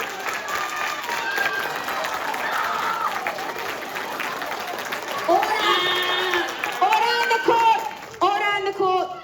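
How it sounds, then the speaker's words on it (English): High school class clapping and cheering during a mock court case, a dense steady wash of applause with scattered shouts and whoops growing livelier toward the end. "y'all just automatically start cheering"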